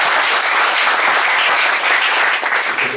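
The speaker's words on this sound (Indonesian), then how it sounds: "Bisa tepuk tangan Pak Tokoh." Dense, sustained applause from an audience at a formal ceremony honouring a community figure, even and loud from start to finish with no talking over it.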